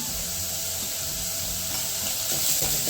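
Garlic and ginger sizzling with onions in a frying pan, a steady close hiss of frying that holds evenly from start to finish with no talk.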